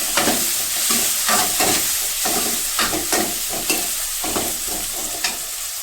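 Onions sizzle loudly in a pan for an okra curry, with rhythmic stirring scrapes repeating every half second or so over a constant frying hiss.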